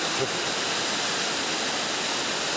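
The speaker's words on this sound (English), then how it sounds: "There's falls here. And this is Hidden Creek." Waterfall at Hidden Creek, a steady broadband roar of falling water filling the scene evenly and continuously, close and loud with no other clear sounds.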